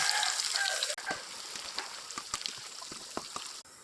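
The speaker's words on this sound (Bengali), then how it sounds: "তেল গরম হয়ে গেছে, জিরা দিয়ে দেব, পেঁয়াজ দিয়ে দেব।" Cumin and onions fry in hot oil for a fish head curry, giving a close, steady sizzle with scattered crackles and pops throughout.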